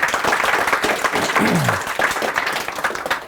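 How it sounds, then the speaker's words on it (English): Audience applause from a crowd at a Reality Changers talk, steady dense clapping filling the room throughout, with a voice briefly audible underneath. "I want you to give yourself a round of applause for all that you're doing"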